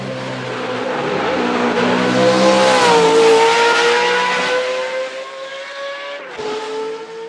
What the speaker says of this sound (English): Sounds like an Indy car.